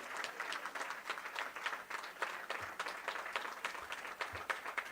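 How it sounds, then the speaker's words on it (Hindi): A crowd at a BJP party organisational event in Jaipur applauds to welcome a speaker, sustained, fairly distant clapping that stays even throughout. "एक बार जोरदार तालियों के साथ राठौड़ जी का स्वागत और अभिनंदन करिए"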